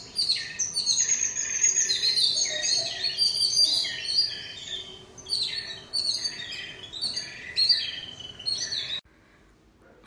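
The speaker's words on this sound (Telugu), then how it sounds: "అసలు కూల్గా ఉంది, పక్షులు మంచిగా అరుస్తున్నాయి." Birds chirping and calling in the cool early morning outdoors, a busy chorus of overlapping tweets and bright song phrases close by, continuing steadily before cutting out near the end.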